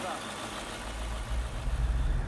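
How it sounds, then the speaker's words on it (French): Powerful 1300-horsepower airport tug engines roar with a deep, steady low rumble that swells louder toward the end, heard up close. "Le rugissement des moteurs"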